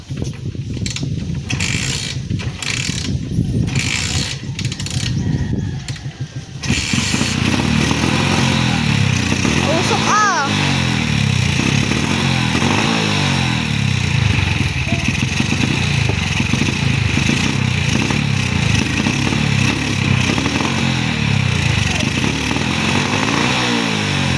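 An old motorcycle engine with a worn-out seat, being started and stalling, clatters and revs unevenly at close range, with sputtering bursts early on giving way to a steady, loud running drone.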